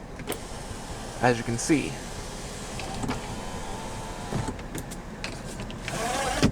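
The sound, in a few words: dual pane sunroof motor operating in 2017 GMC Acadia Denali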